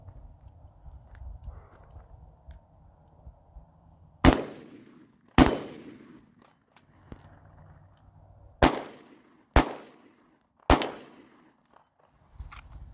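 AR rifle and pistol fired outdoors during a transition drill to an outside-waistband holster, five sharp, loud cracks with ringing decay, a pair close together, then a pause and three more in quick succession over faint background rumble.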